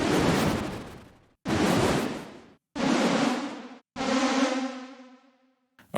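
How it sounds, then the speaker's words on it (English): Synthesizer tone run through a Flex Chorus effect, producing a dense, buzzing swarm-of-bees texture in four loud bursts of about a second each, the last settling into a steadier pitched drone before cutting off. "this sounds pretty much like a swarm of bees"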